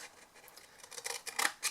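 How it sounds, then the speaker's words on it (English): Scissors snip diagonally through paper for a craft shadow box, a run of small, crisp cuts that grows louder and faster toward the end, close and without talking. "I'm then going to cut diagonal across to the full score line, if I can get my scissors to cut diagonally."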